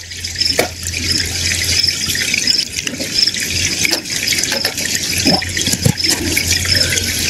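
Fresh water pouring and splashing outdoors in a rural field during a fishing outing, a continuous close trickle with drips and gushes, no talking.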